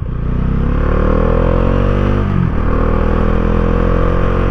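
A 2019 Bajaj Dominar motorcycle is ridden, its engine droning loudly and steadily up close, the pitch rising with acceleration, dipping briefly at a gear change, then climbing again.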